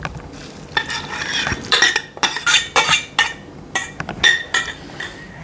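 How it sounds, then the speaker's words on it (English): A spoon stirs a crunchy granola mixture after liquid ingredients are poured in, giving repeated close scraping clinks against the bowl in irregular bursts, with no talking. "And then just stir it all up so that everything is nicely combined."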